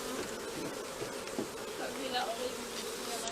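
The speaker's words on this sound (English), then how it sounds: "there's a lot of bees here, as you can see" A dense, steady swarm of honeybees hums around an open hive frame that is being lifted from the box. The drone is continuous and fairly quiet, with individual bees buzzing close by now and then.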